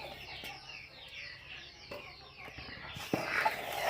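Chickens and chicks cluck and chirp steadily while being fed a ground mix of wheat, rice and gram, with the flock growing louder near the end.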